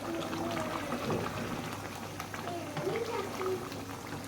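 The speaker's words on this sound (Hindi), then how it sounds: "ये जी चिकन कढ़ाई बस तैयार होने लगी है, इसकी मैं कर रही हूँ थोड़ी सी भुनाई" Chicken karahi sizzles and bubbles in a pan as it is roasted toward the end of cooking, giving a constant quiet crackling hiss, with faint voices in the background.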